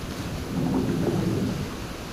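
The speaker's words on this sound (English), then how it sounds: "it's really, really rainy right now" Rain and thunder in the game ARK: Survival Evolved, a steady wash of rainfall under a low rolling thunder rumble that swells in the middle of the stretch and then eases, with no voices.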